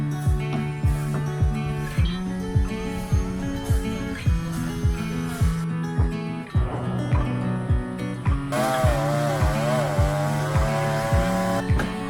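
A chainsaw-like power tool used in traditional wooden boat building on Pulau Bonerate, Indonesia, runs in repeated bursts, its engine revving and dropping in a steady rhythm, loud and close.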